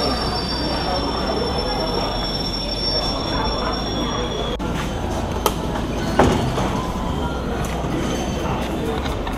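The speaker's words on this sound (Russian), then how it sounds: "Видите, как вообще бесслышно подъехал поезд." A Beijing metro train pulls into a station with a continuous rumble and high, sustained wheel squeal, close by and loud, with a couple of sharp clanks partway through and a voice briefly in the background.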